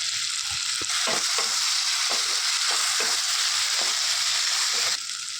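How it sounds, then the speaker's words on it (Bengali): Potatoes frying in a spiced masala, a continuous close sizzle broken by regular scraping stirs of a spoon against the pan, with no voices. "এই যে আলুটা মশলাগুলোর সাথে ভালো করে ভাজা ভাজা করে নিয়েছি"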